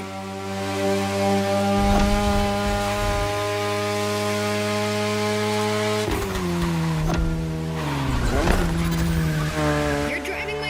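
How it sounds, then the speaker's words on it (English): Mazda RX-7 Turbo 2, the second-generation RX-7, driving in The Crew Motorfest, its steady rotary engine drone shifting pitch with gear changes and brief tire squeal, loud and continuous with background talk. "You're driving my car's older sister tonight, the Mazda RX-7 Turbo 2, the second generation of the RX-7."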